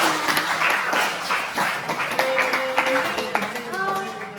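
A class of students applauds in a school lesson on photosynthesis, a fairly close patter of clapping hands lasting a few seconds, with children's voices calling out over it.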